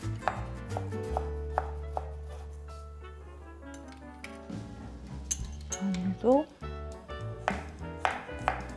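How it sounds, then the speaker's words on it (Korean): A knife slices garlic and ginger thin and cuts them into julienne strips on a board for a Korean oyster salad. Sparse, crisp chopping taps sound under a woman's speech, against soft background music. "마늘도 이렇게 얇게 편을 썰어서 채를 같이 썰어줄게요"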